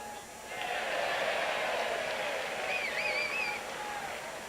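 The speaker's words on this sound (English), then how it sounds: "You hear that cheering in the background." A crowd at Omaha's Rosenblatt Stadium during a 1998 College World Series baseball game between Mississippi State and LSU cheers; a broad roar swells and holds, with a couple of shrill whistles over it.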